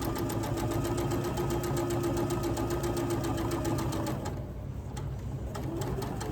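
Continuous whirring of a sewing machine stitching a quarter-inch seam on a Christmas quilt, close and steady, easing slightly near the end while a faint chirping pattern runs through it; no speech.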